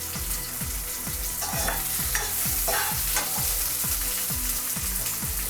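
Onions and green chillies fry loudly in a pan, a dense sizzle broken by steady rhythmic stirring scrapes repeating about every half second, close and with no voices.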